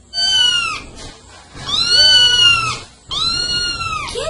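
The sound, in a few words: cat meowing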